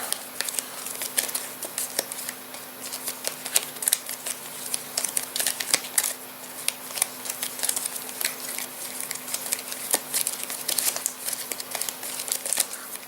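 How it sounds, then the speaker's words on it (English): Rapid, continuous papery riffling and crinkling as game cards for the Castle Ravenloft board game are shuffled close by, steady for several seconds with no talk. "I'm going to give them a good shuffle."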